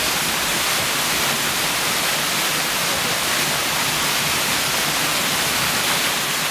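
Rushing water of a 20 to 40 foot waterfall in the North Carolina Cascades, a loud, steady, broadband roar that fills the whole clip without pause, close by, with no voices.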